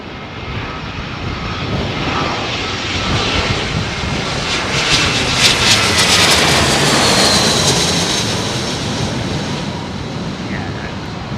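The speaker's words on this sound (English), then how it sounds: "aircraft on the approach glide path at the moment" A jet airliner on approach to land at Heathrow in windy weather, its engines a loud, steady roar that swells as it passes close overhead and then slowly fades, with wind noise throughout.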